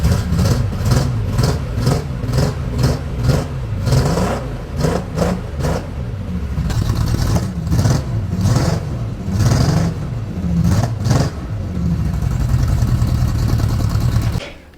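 An idling engine of a restored old sports car, a steady near rumble with uneven pulsing and a few light revs, loud and continuous throughout with no talk over it.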